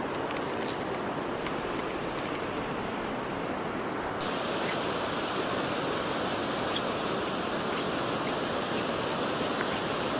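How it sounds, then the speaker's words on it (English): Surf from an incoming tide rolls in on East Beach, Lossiemouth, as a steady broadband wash of breaking waves that stays loud and unbroken throughout, with a slight rise in hiss partway through. "The tide's fairly racing in now."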